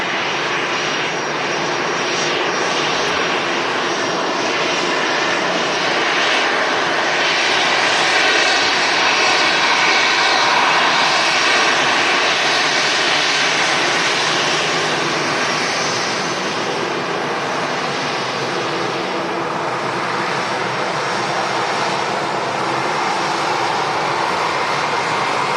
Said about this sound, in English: It was that exact aircraft, the A320 EasyJet that we see there